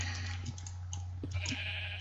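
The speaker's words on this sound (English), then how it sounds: "it just spawned in a bunch of sheep all named Mr. Rainbow." Several sheep bleat in Minecraft, a blocky video game, short repeated calls over a steady low game hum, faint and spread across the scene.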